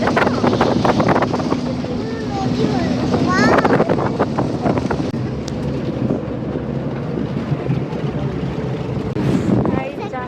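Wind rushes past a moving vehicle on a rural road in Faridpur, a loud, continuous buffeting roar on the microphone, with people talking over it.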